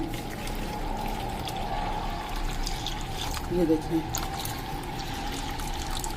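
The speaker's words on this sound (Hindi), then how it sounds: "पानी डालूंगी मैं इसमें" Water pours steadily into a bowl, a continuous gentle rush with a brief louder splash near the end, while someone speaks briefly.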